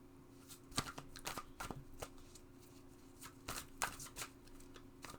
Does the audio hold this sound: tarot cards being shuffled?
yes